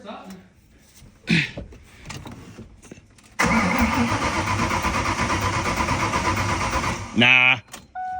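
A Ford Mustang engine cranks with a sustained, loud whirring starter grind lasting several seconds after quieter clicks and knocks, followed by a short whine, with people talking around it.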